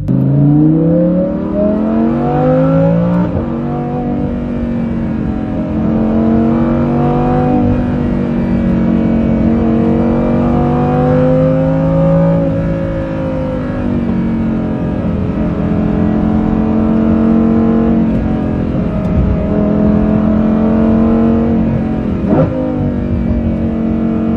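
A Lamborghini Huracan Performante fitted with a Kline Innovation Inconel exhaust revs repeatedly up and down at close range, its loud engine note rising and falling in sustained sweeps.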